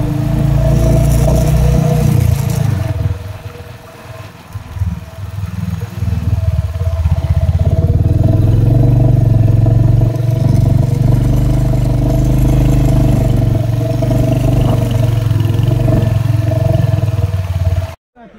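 A motorcycle rides up a hill road toward a temple, its mid-pitched engine droning steadily and loud throughout with rattling clatter and a few revs, alone with no talk, cutting off at the end.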